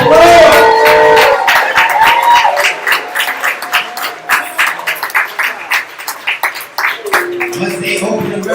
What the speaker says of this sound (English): give that man another round of applause.